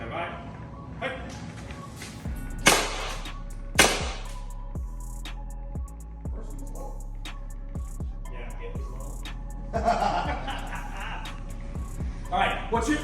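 Byrna OC pistol firing a few sharp, separated shots outdoors during a test session, each crack standing out clearly over background noise and brief talk between the shots.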